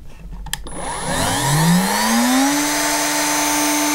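A cheap cordless angle grinder for household use, running with its housing partly taken apart, starts with a click and a few knocks. Its whine then climbs smoothly to a steady, loud tone and holds there, close by and alone.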